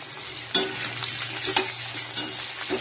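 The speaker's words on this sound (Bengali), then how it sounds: "আলুগুলো এক পিঠ ভাজা ভাজা হয়ে গেছে, দোকানে পেঁয়াজগুলোও দিয়ে দিলাম" Potatoes and onions fry in a pan with a loud, continuous sizzle. A few sharp clatters of stirring punctuate it, with no talking.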